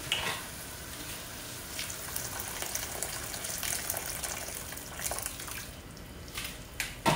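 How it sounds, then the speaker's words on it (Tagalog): Water is poured into a cooking pot of noodle dish with oyster sauce, giving a soft, continuous splashing and sizzling hiss, fairly faint and steady with a few small clinks. "Nilagay tayo ng tubig ulit."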